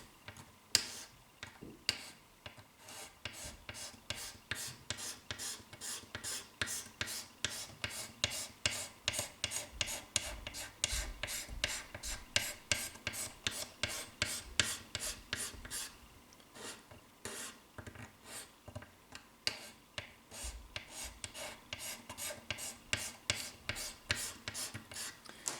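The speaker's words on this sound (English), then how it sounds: "I'm just going to start by scraping away a little bit." A Squier Telecaster fretboard is scraped in steady, rhythmic rasping strokes, close and even, repeating for about half a minute with no talk.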